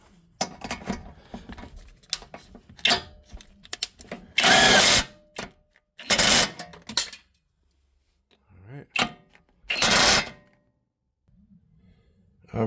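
A power tool runs in several loud, separate bursts while tightening a new Moog nut on a Lexus GS suspension, each whir lasting about a second, with quieter clicks and some handling noise in between.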